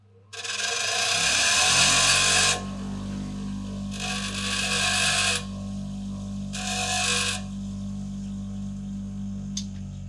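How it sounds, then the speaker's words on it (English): Three separate bouts of close, gritty rasping, each several seconds long, over a steady low hum, as a small contact screw is sanded by hand. "Need to be a little bit more sanding."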